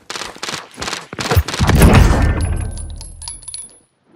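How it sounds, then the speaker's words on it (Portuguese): Rapid XM4 rifle gunfire in a video game, a string of sharp close shots building into a loud sustained burst with a ringing, fading tail. "eu dei só headshot no cara com a XM4"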